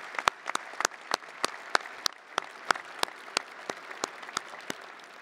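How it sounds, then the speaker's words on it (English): A modest audience at the opening of a university football performance complex claps, the applause fairly sparse with individual sharp claps standing out in an irregular rhythm, fairly quiet and at a distance. "I think we should give him a round of applause as well"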